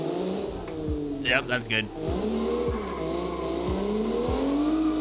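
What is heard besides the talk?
car engine revving in BeamNG video game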